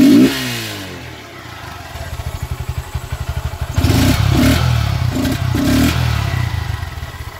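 Close-up revving of a 2018 Honda Grom motorcycle fitted with an aftermarket intake: a loping idle builds into several sharp, loud throttle blips with mechanical clatter.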